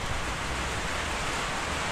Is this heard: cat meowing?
no